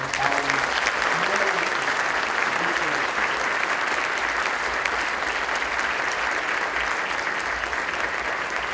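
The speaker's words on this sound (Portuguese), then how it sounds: "Uma salva de palmas." Sustained applause from a large audience at a formal inauguration ceremony of a Brazil-Portugal chamber of commerce council in Ceará, broad steady clapping throughout with a few voices briefly audible early on.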